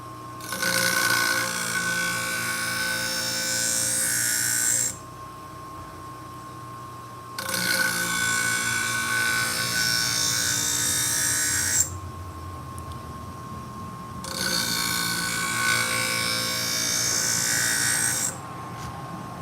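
A scissor blade ground on a sharpening machine in a sharpening shop, three loud rasping grinding passes of about four to five seconds each, separated by short pauses with a steady motor hum underneath.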